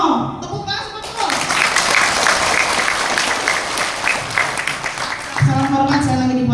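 An audience at a national orientation event breaks into loud, dense applause that swells and holds for several seconds, with voices talking over it at the start and again as it fades.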